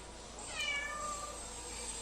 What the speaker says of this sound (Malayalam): ഇവനെ തപ്പി നടക്കുന്ന വേറെ പൂച്ചുണ്ട് സത്യം